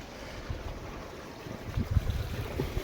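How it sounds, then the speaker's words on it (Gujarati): Borewell water pouring and splashing, a continuous low rushing flow that grows slightly louder and more turbulent toward the end, with no voices. "જો લો પાણી મિત્રો"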